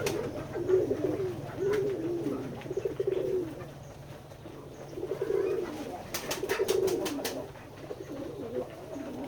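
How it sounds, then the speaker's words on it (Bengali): Pigeons at a farm in Keshabpur, Jashore, coo in soft, repeated rolling phrases during feeding, with a few sharp flutters or clicks in between, close and fairly loud against a steady low hum. "দেখতে পাচ্ছেন আমাদের খামারের কবুতর"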